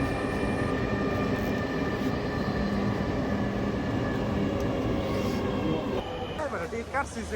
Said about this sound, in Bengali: আজকে মেট্রো ট্রেনটা চলে এসেছে